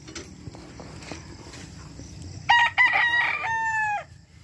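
A Boston 47 gamefowl rooster at a gamefowl farm gives one loud, close crow lasting over a second, after some faint clucking and rustling, with no talking.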